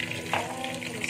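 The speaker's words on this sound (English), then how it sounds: "I'm just gonna add a little bit of water" Water being added to batter in a kitchen while cooking patishapta, a short steady splashy pour with a faint bubbling hiss.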